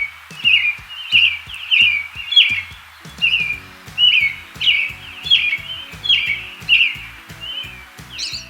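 A songbird sings a repeated bright, warbling phrase about once a second. The song is clear and moderately close, with no talking.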